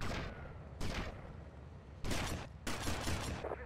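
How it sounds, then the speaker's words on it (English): Shotgun blasts in the video game GTA Vice City: four or five heavy, booming shots spaced unevenly about a second apart, each with a loud crack and a short rumbling tail, with no talk. "That shotgun comes in handy."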